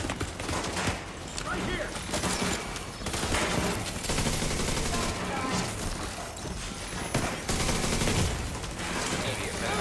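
Dense, continuous gunfire in The Division 2 shooter video game, rapid automatic bursts overlapping throughout as enemies fire on players walking through a gate, with a voice shouting briefly over the shots.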